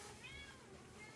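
A faint, brief meow from a nearby cat, a single rising-and-falling call over quiet room background.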